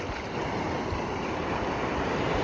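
Stormy Black Sea surf at Anapa roars continuously and loudly, with whitecapped waves breaking close by and wind buffeting throughout, no voices.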